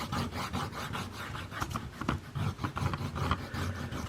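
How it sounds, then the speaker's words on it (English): Buffing compound rubbed onto tape stuck over a diamond sharpening plate, a steady close rasping scrub with repeated back-and-forth strokes, no talking. "we're going to coat up the tape with buffing compound"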